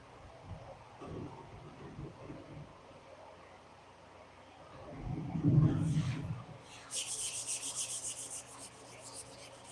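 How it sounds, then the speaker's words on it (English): Wood being sanded for a side table: scratchy rubbing strokes, faint at first, then a louder burst of grinding friction, followed by a brighter, hissing stretch of rapid sanding at close range. "I know everybody loves this, sanding"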